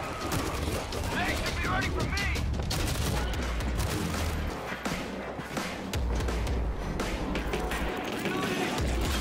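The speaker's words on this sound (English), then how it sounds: "Machine guns locked in." Machine gun fire in the World War Z video game rattles in rapid, sustained bursts with thuds underneath. Voices come and go within the loud, crowded battle mix.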